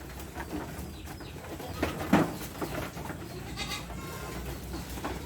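Goats bleating in a farm goat pen, a few calls scattered through a steady background, with one louder bleat standing out near the middle amid general barn ambience.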